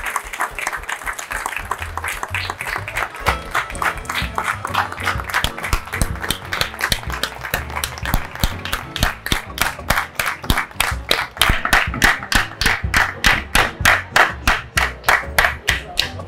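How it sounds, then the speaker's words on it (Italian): An audience gives a long round of applause at an outdoor painting event, starting as scattered clapping and building into loud, dense, rhythmic clapping. "Un applauso a Giulio!"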